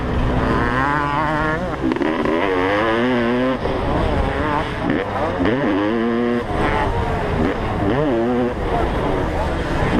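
A 32-year-old Honda CR500 two-stroke races modern dirt bikes on a hillside track, engines revving loud and continuous with rising and falling pitch as bikes pass close by, while a commentator talks throughout.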